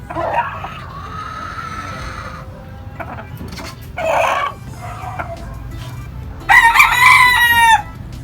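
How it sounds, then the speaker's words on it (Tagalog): A broodcock rooster crows loudly and up close several times, including a long strained crow at the end, with shorter clucking calls between. "Napakagandang broodcock po."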